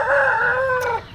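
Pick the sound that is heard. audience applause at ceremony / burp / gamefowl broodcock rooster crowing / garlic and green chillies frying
gamefowl broodcock rooster crowing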